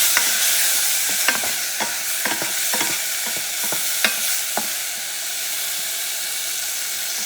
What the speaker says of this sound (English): You don't want the garlic to burn, so you move things around a little bit.